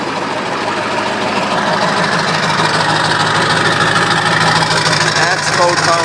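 Ford 7.3 Powerstroke diesel engine idling after a cold start, a steady loud close clatter with a constant low drone.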